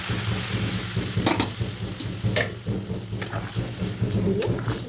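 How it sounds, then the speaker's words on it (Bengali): Hot water poured into a pan of cooking shukto, a Bengali vegetable dish, making a steady hiss and sizzle with a few louder splashy bursts, close up. "এবার দেবো পরিমাণ মতন গরম জল"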